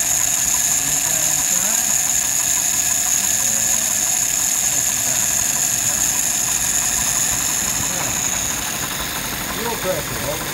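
A warmed-up engine idles steadily and loudly close by, an even droning rumble with a faint knocking texture that holds for the whole stretch.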